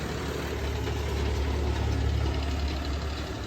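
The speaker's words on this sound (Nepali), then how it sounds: "ट्र्याक्टर आयो ट्र्याक्टर" A tractor engine runs steadily nearby, a continuous low, throbbing idle with faint knocking that stays at an even loudness throughout, with no voices.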